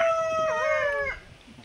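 Rooster crowing at a wedding gathering in Karajgaon: a single loud, close call with a rising then wavering drawn-out tone lasting about a second, then fading into quiet background.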